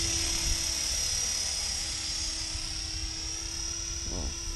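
Class 500 RC helicopter lifting off and climbing, a steady loud high-pitched rotor and motor whine with a constant buzzing drone, close by and unbroken throughout.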